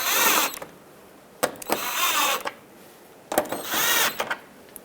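A tool drives in the fender liner mounting screws on a 2003-09 Toyota 4Runner, three short buzzing bursts with brief pauses between them, close and alone.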